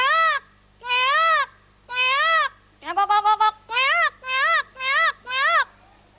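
A voice imitates a peacock's call during a 1998 primary school performance, giving eight loud, wailing, rising cries in a steady series, the later ones quicker and closer together.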